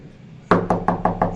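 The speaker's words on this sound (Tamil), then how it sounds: "திடீரென்று யாரோ அவசரமாக கதவை தட்டும் சத்தம்" Someone bangs urgently on a door: after a brief quiet, five sharp, evenly spaced knocks land in quick succession, loud and close.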